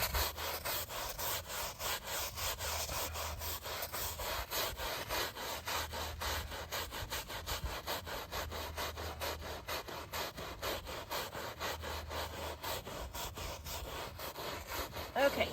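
Dish soap scraped with a brush into an oil stain on a mat, giving a steady rhythmic rasping scrub of quick back-and-forth strokes that runs throughout, close and fairly loud, with no talking.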